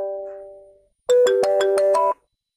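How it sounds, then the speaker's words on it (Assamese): A melodic phone ringtone for an incoming call chimes loudly for about a second in a quick run of bright repeated notes, following a softer steady tone. "সত্ৰাধিকাৰে এইটো সময়ত ফোন কৰিলে"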